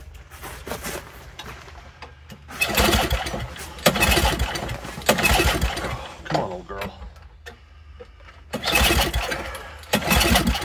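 An old Toro snowblower that sat unused for years is cranked repeatedly, several bursts of recoil pulling and sputtering engine noise separated by pauses, with a person talking in between.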